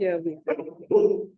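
A dog barks several times nearby, short loud yaps with whimpering tones, mixed with a person speaking briefly during an online presentation at home.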